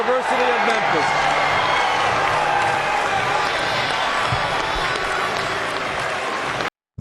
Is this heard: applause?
yes